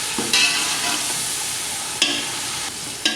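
Onions frying with garlic-ginger paste for daal mash give a steady soft sizzle, with a few short louder scrapes of stirring in the pan, close and without talk.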